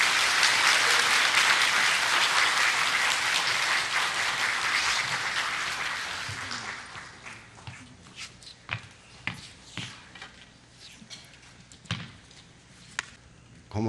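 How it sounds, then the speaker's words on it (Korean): Church congregation claps to welcome a pastor to the pulpit, loud sustained applause that thins after about six seconds into scattered individual claps and a few last hits. "우리 박수로 목사님 모시도록 하겠습니다"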